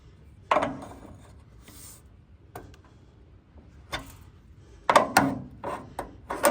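Bolts being loosened on a welder in a workshop, heard as a few sharp metallic ratchet clicks and taps spread across the stretch, close and moderately loud against a quiet background.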